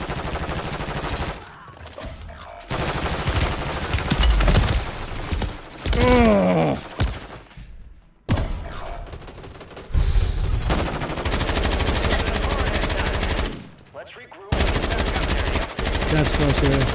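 Sustained automatic gunfire and rapid bursts fill a Call of Duty Modern Warfare III Zombies match, loud and dense with brief gaps, while a player talks over the action.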